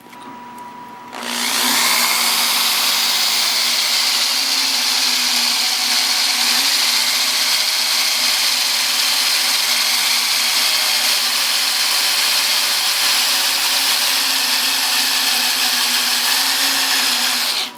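A power drill whines loudly and steadily after a brief quieter start, its pitch dipping and rising slightly as it bores through metal.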